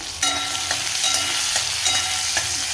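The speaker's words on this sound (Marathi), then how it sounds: "कांदा टमॅटो आणि लसूण मी ग्रेव्ही करण्यासाठी परतून घेणार आहे तेलामध्ये" Onion, tomato and garlic frying in oil for a gravy, a loud continuous sizzle with occasional sharper clicks of a spatula stirring in the pan.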